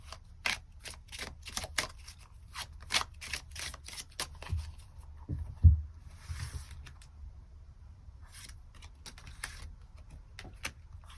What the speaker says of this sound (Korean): 이런 것들 조금 더 추가 카드 뽑아보도록 하겠습니다